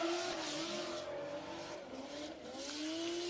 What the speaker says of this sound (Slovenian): Samo gas se sliši iz teh dveh avtomobilov